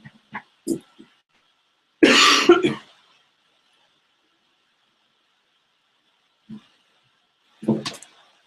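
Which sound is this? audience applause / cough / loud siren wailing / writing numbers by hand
cough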